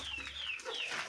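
Young Kuchinsky Jubilee chicks in a coop give faint, high, falling peeps, a couple of thin chirping calls heard at a distance over low background hiss.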